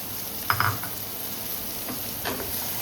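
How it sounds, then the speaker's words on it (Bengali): Soaked, squeezed soybean chunks frying with pointed gourd in a pan, with a soft steady sizzle and a couple of brief stirring scrapes near the start and later, close and fairly quiet, no talking. "এবার এই পটলটার সঙ্গে এই সয়াবিনটাও ভালোভাবে ভাজা ভাজা হয়ে যাবে"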